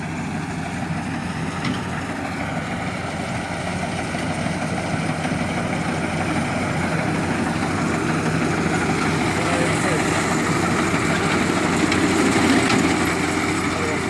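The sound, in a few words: paddy harvesting machine cutting rice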